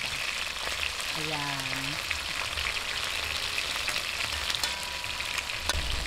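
Chicken pieces fry steadily in garlic-flavored oil left from toasting garlic, a constant dense sizzle close by, with a brief spoken word over it.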